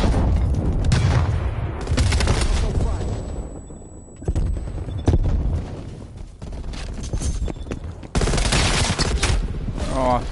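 Bursts of automatic gunfire in the video game Warzone: loud, sustained volleys with short pauses between them, and a little speech in the background.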